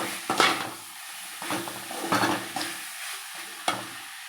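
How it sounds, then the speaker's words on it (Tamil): Yellow pumpkin poriyal is stirred in a pan with a light sizzle, the lid lifted and a spoon scraping through it in several short, uneven bursts. Quiet pauses fall between the strokes, close by with no talk. "அப்பப்போ இப்படி மூடியை திறந்து கிண்டி விட்டுக்கலாம்"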